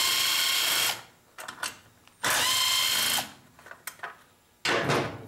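A power tool backs out the bolts on the plastic top cover of a Briggs & Stratton 500 Series small engine, whirring in three loud, close bursts with quieter clicks and handling noise in the pauses between them.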